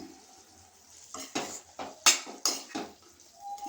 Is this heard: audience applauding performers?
no